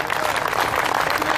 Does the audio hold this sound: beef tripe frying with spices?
no